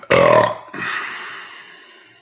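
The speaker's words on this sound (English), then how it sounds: "Oh, I got a burp." A single loud, close burp from a man, a short harsh belch followed by a longer trailing rumble that fades out, with no talk over it.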